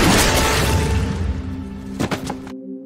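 A single gunshot fired from a window during a violent police confrontation, a sharp loud blast near the start with a short echoing tail, a second burst of impacts shortly after, and no speech.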